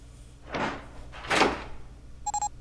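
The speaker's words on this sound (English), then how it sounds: "door opened" In the Zero Escape video game, a door opens with two swelling whooshing sweeps followed by a short metallic clicking chime, heard alone without speech.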